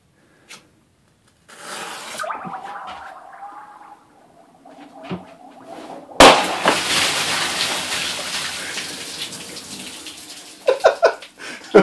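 Water splashes and gushes loudly from a sink blown apart by an M-80 firecracker, starting in bursts and then pouring steadily at close range, with some rattling clatter near the end.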